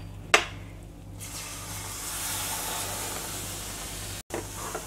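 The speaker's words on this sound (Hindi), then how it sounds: "अब इसमें हम दूध डालेंगे" Milk poured into whole wheat flour roasting in a pan bursts into a loud, sustained sizzle and hiss after a brief clink, steady and close, with no talking.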